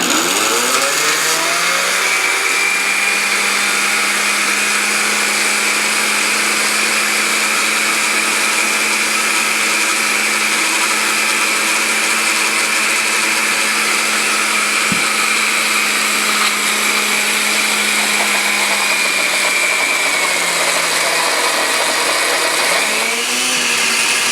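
A kitchen blender whirs steadily and loudly for over twenty seconds while extra virgin olive oil is drizzled into a citrus basil sauce, its motor pitch dropping and settling before spinning down at the end.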